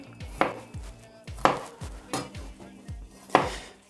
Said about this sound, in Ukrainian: Нарізаю її міленькими кубиками